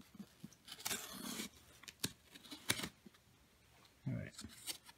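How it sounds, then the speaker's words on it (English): A blade slices open a 4 lb cardboard unboxing crate, giving several short, close scraping and tearing bursts at an irregular pace, with quieter rustling between them. "Let's see if I can just cut open."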